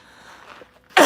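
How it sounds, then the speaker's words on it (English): A single sharp cough bursts out at the very end from someone breathing bitterly cold air outdoors, close and loud after a moment of near quiet. "It's so cold that if you take a deep breath, it makes you cough."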